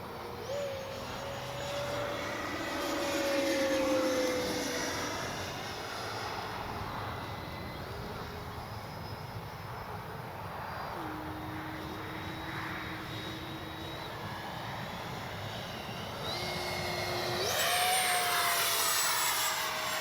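A small 70mm ducted-fan engine on a Freewing F-35 RC model jet whines steadily, its pitch sliding up and down as it passes, swelling louder near the start and again at the end.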